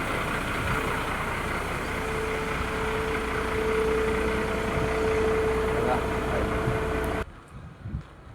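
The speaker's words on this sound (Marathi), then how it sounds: "मामाची गाडी आहे बघा. निघाला आता गुजरातला." A truck engine idles and rumbles steadily up close as the uncle's truck sets off for Gujarat, a continuous low drone with a faint tonal whine that cuts off abruptly near the end.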